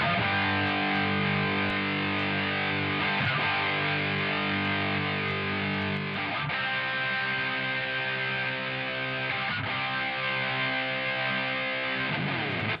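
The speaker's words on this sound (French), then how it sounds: "Ça, c'est le son de la guitare tel que je l'ai enregistré." Recorded electric guitar track played back with distortion and effects, a thick sustained wall of chords that shifts at regular intervals, loud and continuous with no talking.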